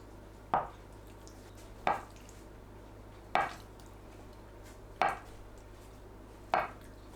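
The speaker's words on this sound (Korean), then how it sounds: "두부를 한 입 크기로 썰어줍니다." A kitchen knife cuts tofu into bite-size pieces, five single sharp thuds on a cutting board spaced about a second and a half apart, close and clear over a low steady hum.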